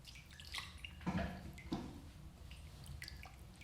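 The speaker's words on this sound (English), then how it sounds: "That's it, play with the water. Enjoy that sound." Hands play in water nearby, making soft splashes and a few distinct drips scattered over a few seconds in a quiet space, with no talking.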